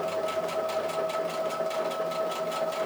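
A sewing machine fitted with a roller foot stitches a blanket stitch on plastic, its motor whirring steadily with a fast, regular needle pulse close up and alone.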